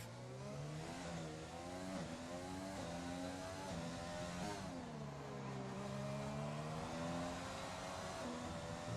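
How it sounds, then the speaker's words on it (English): An Alpha Tauri Formula 1 car in F1 2020 screams at high revs, the engine pitch sliding down and rising again as it brakes into and powers through the Monaco chicane, loud and steady with no talk. "we take a look at the Alpha Tauri heading into the chicane"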